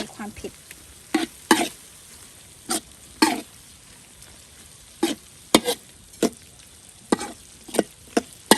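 Southern Thai curry paste being stirred in a pan: a series of sharp, irregular scraping strokes from the spoon against the pan, close and fairly loud, separated by quiet gaps over a faint sizzle.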